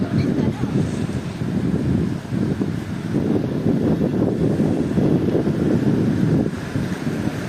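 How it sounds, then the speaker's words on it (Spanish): Gusty wind buffets the microphone at a stadium construction site, a continuous low roaring rumble with surging peaks that stays loud and close throughout, with no talk. "Y lo que os comentaba del viento, yo creo que lo estáis notando tanto en el árbol como en el audio."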